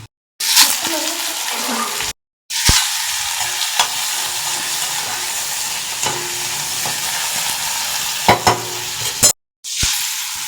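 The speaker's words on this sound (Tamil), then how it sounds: "சுவரட்டிக்கு வதக்க ஆரம்பிச்சிட்டோம். எண்ணெய், கடுகு, கருப்பில் போட்டு வரமிளகா, வெங்காயம், அவ்வளோதான்." Mustard seeds, dried red chillies and onion being sautéed in oil for a mutton liver fry: loud, close sizzling and stirring that cuts out abruptly several times, with brief scrapes and knocks against the pan.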